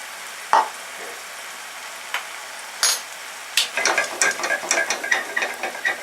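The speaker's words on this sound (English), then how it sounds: "And we're gonna let this fry for about 8 to 10 minutes." Garlic fries in a pan with a soft continuous sizzle, broken by scattered clicks and scraping stir sounds that grow busier toward the end, with no talk.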